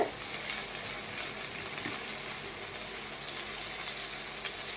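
Brinjal pieces frying in a pan for aviyal, a steady quiet hiss of sizzling oil that stays even throughout, with only a faint stir near the start and no talking.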